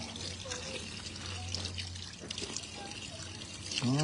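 Water running from a rain station outdoors, a steady broadband wash with a continuous low hum, people talking faintly underneath throughout.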